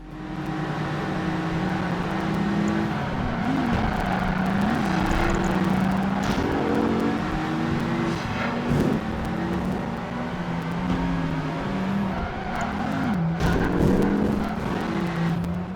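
A Ferrari engine roars steadily in Project Gotham Racing 2 on empty Sydney streets, with a loud continuous drone and revs that rise and fall through gear changes, heard alone.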